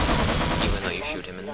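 Dense gunfire in Half-Life, sharp overlapping shots layered into a loud continuous burst that thins out slightly toward the end.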